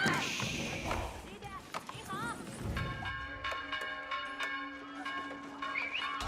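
The town bell in the Age of Mythology video game rings as ringing, sustained tones in the second half, with game effects and a commentator's voice over them.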